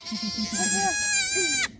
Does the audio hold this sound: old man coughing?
no